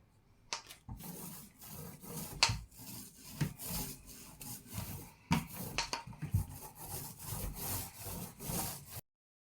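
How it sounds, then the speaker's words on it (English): A paint roller applies a thin second coat to bedroom cupboards, giving a soft, rhythmic rolling and rubbing sound in repeated strokes. It is close and fairly quiet, with occasional light knocks. "rolling that second coat thinly in the same manner you did the first coat"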